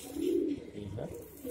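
A male pigeon coos nearby, a low throaty warble swelling then fading, with a softer second coo following.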